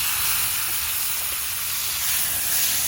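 Diced tomatoes and garlic sizzling in a hot pan, a loud, steady, bright hiss that holds evenly from start to finish with no voices.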